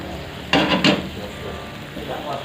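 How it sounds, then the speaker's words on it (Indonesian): Chicken meatballs (bakso) dropped into a frying pan while cooking stir-fried baby corn: two sharp splashing sizzles in quick succession, then a softer steady crackle of frying oil, with no speech over it. "iki bakso cemplungno tak goreng bakso ayam"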